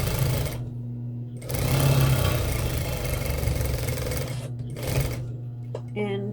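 Sewing machine running along the end seam of a piece, with a steady mid-pitched motor hum in two main bursts separated by short pauses, fairly close and loud.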